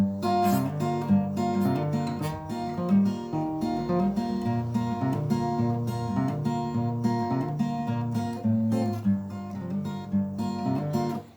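Fingerstyle acoustic guitar with a capo plays a song, a steady picked pattern of bass notes and ringing chords, close and continuous with no voice.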